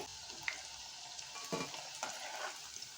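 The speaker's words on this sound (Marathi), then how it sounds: "तेल आपलं तापलं छान फास्ट गॅसवरती आपल्याला हे तळून काढायचं आहे" Cauliflower manchurian pieces frying in hot oil over a high flame, giving a dense, continuous close sizzle with a few brief bubbling bursts and light utensil touches.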